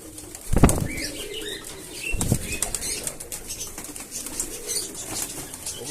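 Pigeons take off, with two loud, close bursts of flapping wings followed by softer rustling and faint bird sounds around a coop.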